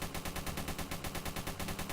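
Rapid automatic gunfire in the Roblox game Military Warfare Tycoon, a fast, even stream of loud shots repeating about seven times a second with no talk.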